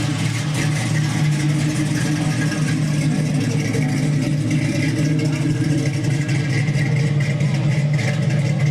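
A car engine fitted with a 3-inch Flowmaster exhaust runs steadily, with a deep, continuous, throaty drone throughout and no voices over it.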